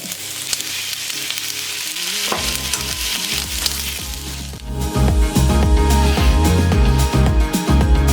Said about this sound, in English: Continue to cook the onion and the other ingredients until it's gone brown.